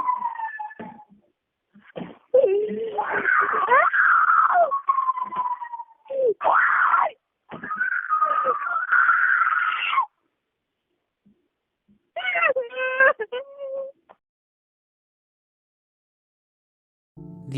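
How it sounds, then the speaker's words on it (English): Women's high, wailing screams heard over a thin, phone-quality voicemail recording come in several long, intense bursts separated by short silent gaps, fading to near silence toward the end. "We hear what I can only assume are women screaming for their lives"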